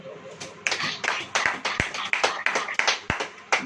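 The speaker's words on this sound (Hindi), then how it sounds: "ताली बजाओ।" A church congregation claps hands at a Hindi-language sermon, a run of about a dozen sharp, fairly even claps in steady rhythm, moderately close, with no talking over them.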